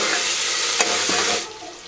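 Tomatoes and onions stirred in a pan while cooking chicken biryani, a steady soft sizzle with a few scraping stirs of the spoon, close and alone, no voices.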